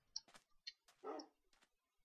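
A puppy in the Minecraft video game gives a few faint, short yips and barks, scattered with quiet gaps between them.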